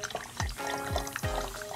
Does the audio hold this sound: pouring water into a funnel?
yes